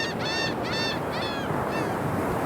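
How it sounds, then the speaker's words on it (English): A seagull sound effect sample: a series of harsh, nasal bird calls repeated about four times over a steady wash of background noise, like seagulls crying near the shore. "There's some with seagulls."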